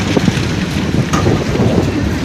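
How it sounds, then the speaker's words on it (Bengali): Steady, heavy storm wind in Chandpur buffeting the microphone, a broad continuous roar with gusty low rumbles throughout and no voices. "আস্তে আস্তে বাতাস থেমে যাচ্ছে আবার বাড়ছে বাতাস"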